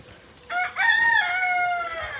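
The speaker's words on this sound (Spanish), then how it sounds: "¿Y qué están los gallos aquí?" A rooster crows nearby in a farmyard with a full, drawn-out cock-a-doodle-doo, loud and clear, preceded by a short squawk.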